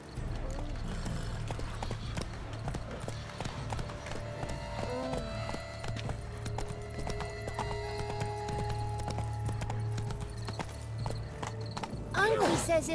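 Horse hooves clip-clop at a steady riding pace in the video game The Witcher 3, an even rhythmic trot over a low ambient bed, with a brief whinny near the end.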